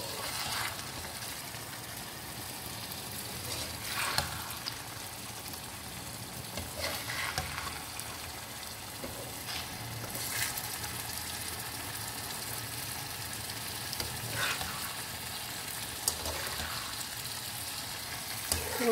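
Fish karahi fries in a pan as masala is worked over the fish, giving a steady low sizzle with intermittent scraping and stirring bursts throughout, fairly quiet and without talk.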